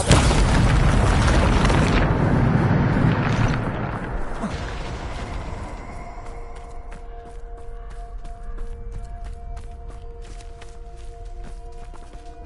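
A Bombarda blast spell from Hogwarts Legacy on PS5 bursts in a loud, deep boom that rumbles and fades over several seconds, leaving scattered rattling debris and light mechanical clicks behind.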